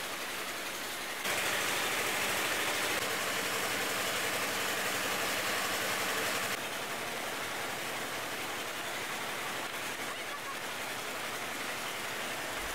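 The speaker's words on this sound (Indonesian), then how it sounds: "mesin pencacah plastik" A plastic shredding machine at a waste processing site runs with a loud, steady, noisy roar that swells for several seconds, then settles into a continuous grinding hum.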